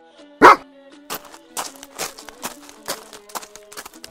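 A cartoon dog barks in a quick series, one loud sharp yelp first and then a string of smaller rhythmic barks and yips close by over faint tonal background.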